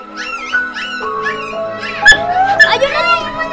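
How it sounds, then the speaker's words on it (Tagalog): Newborn puppies of a Filipino family's aspin (native mixed-breed) dog give high, wavering whimpers and yips in a cluster, close by, with people talking over them. "Ayun na yung mga tuta!"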